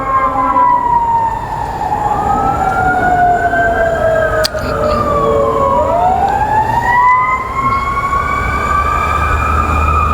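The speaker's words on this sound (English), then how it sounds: "And the sirens are getting louder and louder." Wailing emergency vehicle sirens rise and fall in long sweeping tones, loud and steady, with a second siren overlapping as they pass close by.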